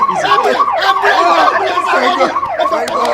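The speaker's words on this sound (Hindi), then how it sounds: "एम्बुलेंस आ गया।" An ambulance siren wails in repeated rising and falling sweeps, loud and continuous, during a comedy film scene.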